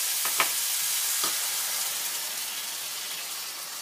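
Leftover vegetables with an egg, water and herb mix sizzle and fry steadily in a pan for an ugly paleo omelette, a continuous close hiss with a few faint stirring clicks and no talking.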